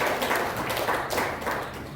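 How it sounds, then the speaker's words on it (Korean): A church congregation claps to welcome a newcomer at a Sunday service, a soft, steady patter of many hands that continues evenly without talk. "우리 한번 박수로 환영하겠습니다"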